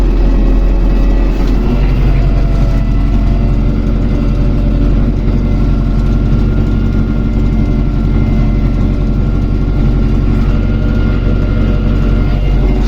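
The diesel engine of an MTZ-82.1 tractor drones loud and close at a steady pitch while it ploughs a partly thawed field, a constant low rumble with no pauses.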